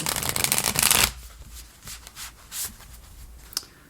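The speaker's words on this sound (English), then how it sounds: "This deck is getting quite worn out, so I'm being more careful with how I shuffle it now." A worn tarot card deck is shuffled close up, with a dense riffling burst at first and then softer, scattered card slides and taps that trail off, no talking.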